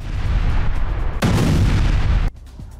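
Heavy blasts from Russian missile and cluster munition strikes roll in as a loud, rumbling barrage that swells midway and then cuts off abruptly.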